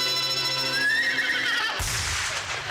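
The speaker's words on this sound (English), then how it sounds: "The staccato hoofbeats of a golden palomino, carrying a man who fights wherever justice needs a champion." A palomino horse whinnies in a stylized radio-intro effect, a bright rising neigh followed by a burst of broadband noise, loud and without talk.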